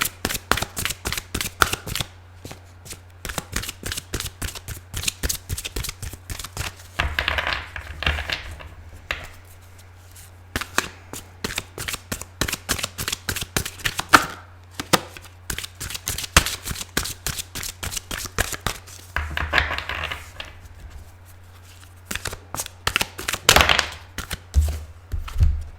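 A deck of tarot cards is shuffled by hand over and over, dense riffling clicks and flutters in close, rapid bursts repeating throughout with brief pauses between rounds, a low steady hum underneath and no talking.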